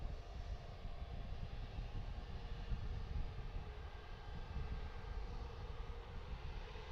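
A cargo airplane departs from Harrisburg airport, its engines a steady, distant broadband roar that holds evenly throughout with no voices.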